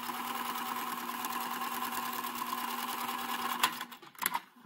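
A sewing machine hums steadily while stitching around the edge of a fabric face mask. It runs at an even, close drone, then slows and stops with a few clicks and rustles at the end.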